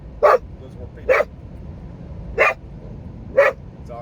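A dog barks four times in a vehicle heading west on I-70 into the Colorado Rockies: sharp, loud, close-up barks spaced about a second apart over a low, steady road rumble.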